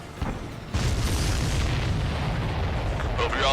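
A loud explosion in the jet combat game Ace Combat 7, a sudden boom followed by a sustained roaring rumble, with faint radio-style chatter and game sound effects underneath.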